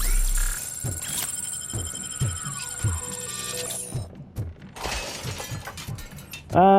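RoboCop bursts through glass walls in the video game RoboCop: Rogue City: loud, repeated shattering crashes with clinking shards over heavy rhythmic thuds and a hum, ending in a sudden loud blast.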